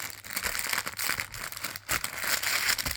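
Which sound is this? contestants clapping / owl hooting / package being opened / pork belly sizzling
package being opened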